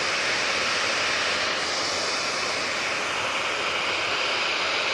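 Ryanair jet engines at Manchester Airport, a loud continuous whooshing roar that stays even and steady throughout, close by.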